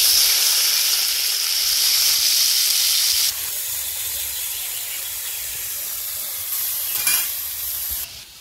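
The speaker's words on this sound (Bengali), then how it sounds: "তেল গরম হয়ে গেছে, করলা দিয়ে দিচ্ছি।" Bitter gourd dropped into hot oil in a wok gives a loud, bright hissing sizzle that eases to a steadier, quieter frying crackle, with a short stirring clatter near the end and no talking.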